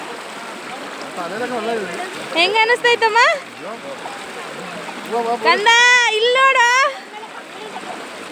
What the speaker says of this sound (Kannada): ಚೆನ್ನಾಗಿ ನೀರು ಹರಿತಾ ಇದೆ ಎಲ್ಲ